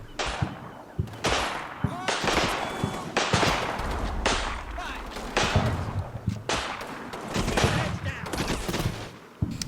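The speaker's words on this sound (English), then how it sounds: "But then they start taking fire from our machine gun to the right" Machine gun fire in Combat Mission, a World War II Normandy battle, heard as repeated loud bursts and scattered gunshots crackling back and forth, close and sustained, with a voice talking underneath.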